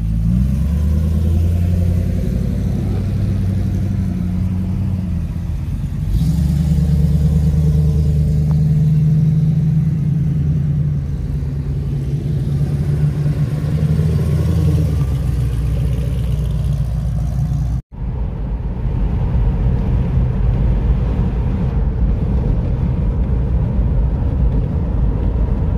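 Ford Mustangs on an owners' club breakfast run near Cape Town rumble steadily and loudly up close, a continuous low engine drone with gear changes and a brief dropout near the end before the engines resume.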